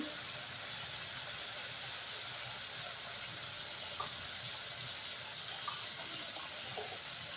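Water poured into a pan of tomatoes and spices, a steady broadband splash and trickle running continuously near and moderately loud with no talk.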